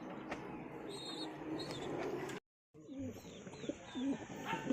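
A pigeon coos in low, soft, rolling calls, several in sequence, with faint chirps from other birds and a short silent break partway through.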